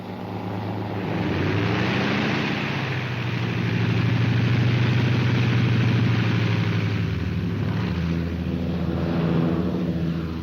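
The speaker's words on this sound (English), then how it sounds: "Wingtips pinpointed by riding lights, the transports take off shortly before complete darkness." Engines of WWII Army Air Force transport aircraft taking off at dusk before D-Day, a steady loud droning rumble that swells slightly through the middle and holds without pause.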